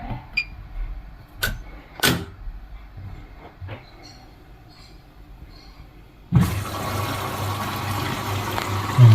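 A Bosch washing machine starts filling partway through: after a few scattered clicks and knocks, a steady rush of inflowing water comes in abruptly and continues loud and close to the end.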